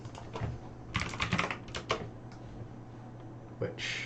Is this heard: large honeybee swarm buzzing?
no